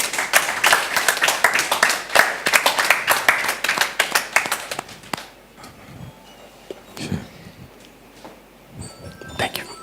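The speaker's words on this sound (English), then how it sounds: "Please, a round of applause for engineer" Applause for an engineer at a power industry dialogue event, a burst of close, loud hand clapping that thins into scattered claps and then fades to sparse taps with quiet room noise.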